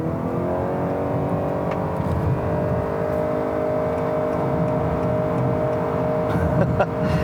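A 2018 Honda Accord Hybrid's engine and electric whine strain loudly and steadily as it accelerates hard from a stop at full throttle, with a constant droning hum up close.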